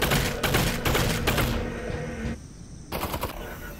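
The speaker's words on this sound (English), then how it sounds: "You're shooting at something that's not me." Rapid enemy gunfire in the Half-Life: Alyx VR game, loud bursts of shots for about a second and a half, then a short lull before the firing starts again.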